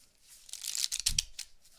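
A magician handles a deck of playing cards during a sleight-of-hand session, giving a few quick, close, crisp shuffling bursts against near silence.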